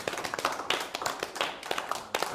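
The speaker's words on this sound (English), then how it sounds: "Give them a big round of applause." Scattered audience clapping greeting two guests called up to join, a light, irregular patter of hands at moderate distance, fairly quiet and without talk over it.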